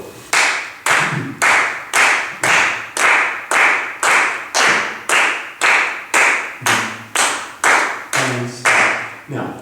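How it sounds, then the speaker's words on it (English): A group claps a steady beat, about eighteen sharp, even claps at a brisk regular pulse, loud and close, with a few faint vocal sounds underneath. "So let's clap a steady beat."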